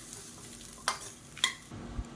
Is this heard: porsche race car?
no